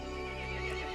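In the video game Resident Evil Village, a horse lets out a single faint, sustained whinny over a steady low tone, with no talking.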